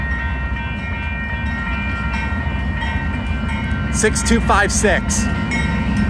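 A Union Pacific manifest freight train rolls past at 1st Street in Tempe, in a no-horn zone, as a loud, steady rumble and clatter. A voice briefly calls out a number near the end.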